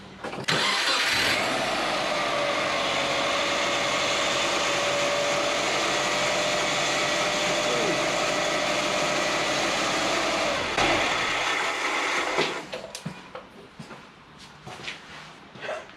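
A Subaru engine cranks, starts and runs with a squeaky drive belt, a loud steady mechanical drone holding for about eleven seconds before cutting off into scattered clatter and handling noise.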